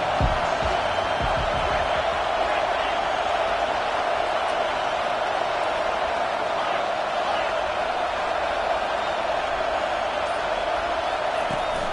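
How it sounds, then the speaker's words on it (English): Simulated stadium crowd in an NCAA college football video game, a steady dense roar of many voices that holds level throughout with no break, with faint thuds underneath. "this crowd trying to help keep them there."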